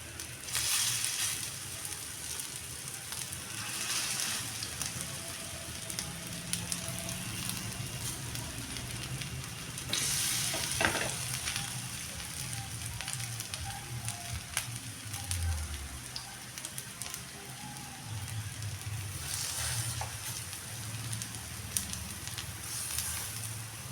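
Small evenly sized pieces of food frying in a pan on a low gas flame, a steady crackling sizzle throughout with occasional louder bursts and faint handling sounds, no speech.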